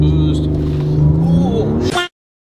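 Tuned Ferrari 488 with a stage 4 turbo setup, engine held on brake and throttle to build boost, a loud steady drone that rises in pitch before cutting off abruptly.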